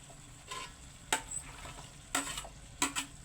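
Kangkong stalks are stirred and tossed in a hot pan for adobong kangkong, with a steady sizzle broken by several sharp scrapes of a utensil against the pan.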